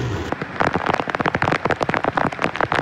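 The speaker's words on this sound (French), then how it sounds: "Donc voilà, des grains, beaucoup de pluie." Heavy rain pelting a sailing boat in a tropical squall, a dense, loud, irregular patter of drops drumming close on the deck and surfaces, with no voices.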